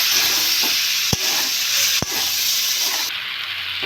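Cauliflower, potato and kohlrabi stirred in a pan with a splash of water, a steady close sizzle with two sharp scrapes of the spatula partway through.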